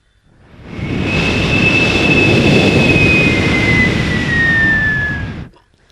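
A man imitates an airplane with his voice during a children's stage play: a sustained, loud, breathy roar with a thin whine that slowly falls in pitch, swelling in and cutting off after about five seconds.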